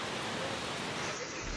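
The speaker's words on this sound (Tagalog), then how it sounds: "Cheryl, Julius, tuloy-tuloy pa rin nga yung buhos, malakas na ulan dito nga sa kinatatayuan natin sa Litex, Commonwealth" Heavy rain pouring down steadily on a Commonwealth street in Quezon City during flooding, a dense, loud, unbroken hiss with no pauses throughout.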